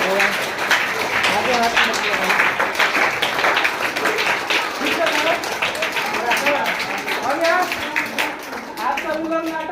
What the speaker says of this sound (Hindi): ताली बजाओ जी।